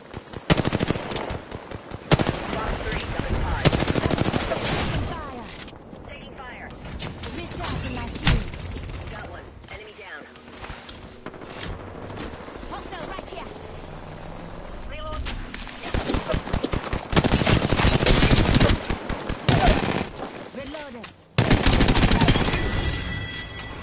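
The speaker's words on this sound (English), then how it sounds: "Listen up, I'm getting shot at." Rapid bursts of automatic gunfire in a video game, loud and near, arriving in dense rattling volleys with short lulls between them, mixed with game voice lines and speech.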